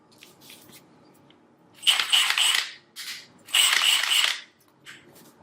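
The gear selector on a Milwaukee M18 FUEL 2767-22 impact wrench is clicked through its settings: a few sharp, close plastic ratcheting clicks in short bursts, separated by quiet pauses.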